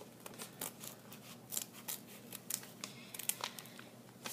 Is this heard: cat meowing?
no